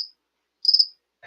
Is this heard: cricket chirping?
yes